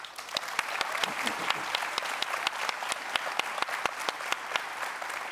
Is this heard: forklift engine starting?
no